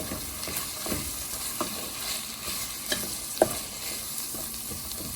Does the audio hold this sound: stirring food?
yes